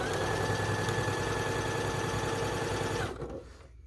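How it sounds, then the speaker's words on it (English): A sewing machine runs steadily, stitching long quilt strips together in a continuous fast mechanical hum with rapid needle clatter, then slows and stops near the end. "I'm sewing these long strips together"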